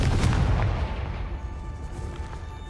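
A Confringo fire spell exploding in Hogwarts Legacy, a deep booming blast with crackling bursts at the start that fades into a lingering rumble with faint tonal chimes, no talk.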